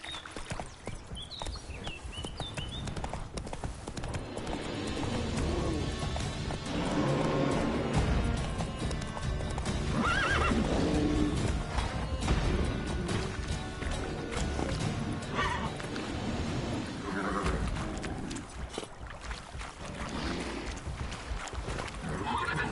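Roach the horse gallops in The Witcher 3, with continuous rapid hoofbeats, occasional whinnies and loud dense game ambience throughout.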